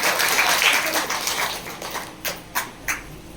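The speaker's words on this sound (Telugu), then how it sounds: "గట్టిగా చప్పట్లు కొట్టి దేవుని మహిమపరుస్తున్నాడు" A church congregation at an anniversary service claps in sustained applause that thins out into a few scattered claps toward the end, moderately loud and reverberant.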